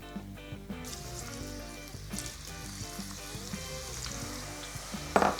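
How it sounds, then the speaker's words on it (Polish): Garlic flakes frying in chilli oil heated to 150 degrees give a steady, close sizzle and crackle, joined by music and a brief louder spatter near the end. "Nasz olej ma 150 stopni, więc dodajemy tym razem nasze płatki czosnku."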